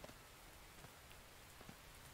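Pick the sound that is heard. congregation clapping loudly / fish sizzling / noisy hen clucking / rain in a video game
rain in a video game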